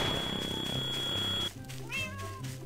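Inside the Garry's Mod video game, a Minecraft cat gives a few short meows after a loud droning game sound cuts off, fairly clear against a quieter background hum.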